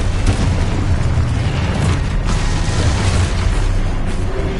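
A Confringo spell explodes in the Hogwarts Legacy video game, a loud booming blast with a deep rumbling low end and dense crackling noise that sustains steadily throughout, with no voices present.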